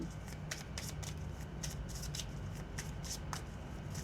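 Romance oracle cards are shuffled by hand in quick, close riffling bursts repeating in an uneven rhythm over a steady background hiss, with no speech.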